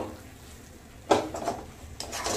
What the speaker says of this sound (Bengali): এবার সব কিছু একসাথে মিশিয়ে নেব।